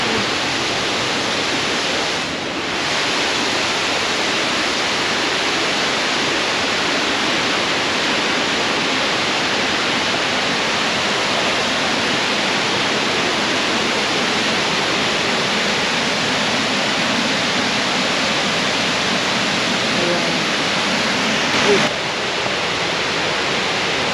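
Steady, full-bodied roar of an Estonian waterfall, broad and continuous across the whole stretch with no voices, close and loud throughout.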